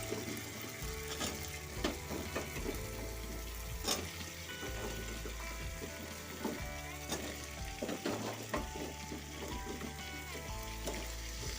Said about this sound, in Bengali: কুমড়োটা আলুটা একটু ভালো করে কষিয়ে নিচ্ছি